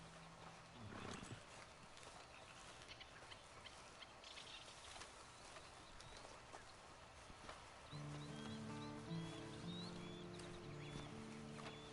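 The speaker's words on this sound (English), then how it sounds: "And you better get on this horse." Horse hooves clip-clop at a steady pace in Red Dead Redemption 2 Online, with a faint whinny and ambient outdoor sounds, then soft music enters midway.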